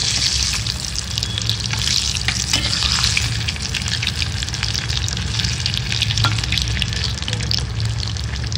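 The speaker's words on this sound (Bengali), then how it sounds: "ফুটফাট ফুটফাট হতে থাকবে" Egg fritters frying in very hot oil crackle loudly and continuously close by, a dense popping sizzle with occasional sharper spatters throughout.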